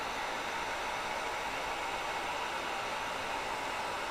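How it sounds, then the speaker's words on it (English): A heat gun on its higher setting 2 blows hot air in a steady, even whoosh, close and unbroken throughout. "This heat gun has 1 and 2 settings."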